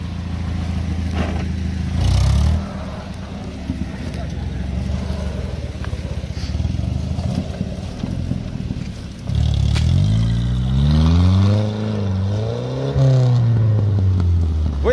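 UAZ Bukhanka van driving off-road, its engine rumbling low and then revving up in rising and falling surges toward the end, with people talking nearby.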